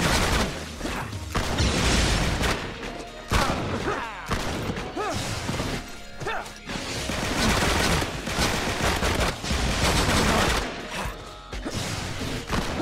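Rapid gunfire from Nathan Drake's shotgun, pistol and AK moves in the fighting game PlayStation All-Stars Battle Royale, dense bursts of shots and impacts running throughout amid busy game effects and music.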